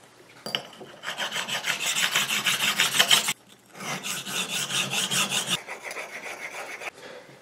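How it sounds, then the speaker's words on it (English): The back of a chisel iron is honed on a sharpening stone in steady, close rasping strokes that scrape back and forth. Two long passes are split by a short pause, and then the sound fades. "Now I'm going to flatten the back and hone it just like I would a normal iron."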